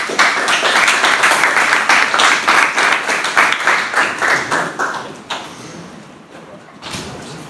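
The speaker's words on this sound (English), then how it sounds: "I'm going to clap." A group of young athletes claps together in rhythmic unison at team practice, loud, sharp, evenly spaced claps that speed up and then stop around five seconds, followed by quieter bumps and thuds.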